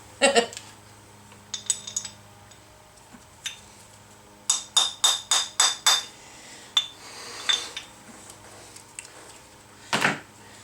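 A hammer strikes a wheel hub from a Nissan 620/720 Hardbody D21 truck, giving sharp metallic clanks: a quick run of five or six blows, then scattered single hits, with quiet clatter between them.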